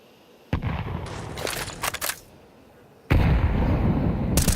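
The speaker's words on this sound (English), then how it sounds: "That's a sick nade." Grenade blasts in Counter-Strike 2 during a professional EU RMR 2024 tournament match: two loud, booming bursts, each trailing into a sustained crackling rumble, with a quieter gap between them.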